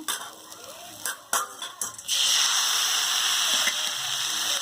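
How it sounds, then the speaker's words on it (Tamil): Tomatoes go into a pan of sautéed coconut and roasted gram for chutney, with a few scrapes and clatters followed by a loud, steady sizzle once they hit the hot oil. "இப்போ இதில் தக்காளி சேர்த்துடலாங்க."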